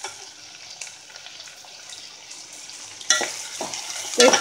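Onions fry in a pan for a tamarind curry, a soft steady sizzle that turns louder near the end as the pieces are stirred and scraped with a spoon, with no one talking.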